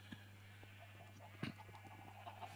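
Chickens cluck faintly in a video game farm enclosure, a few short scattered clucks over a low steady hum.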